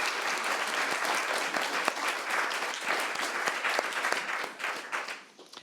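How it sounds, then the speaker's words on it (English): A crowd claps for Ricky at an event with Garance Doré, the sharp claps of many hands blending into a sustained, moderately loud applause that thins and tapers away near the end. "I would just love to have a round of applause for Ricky"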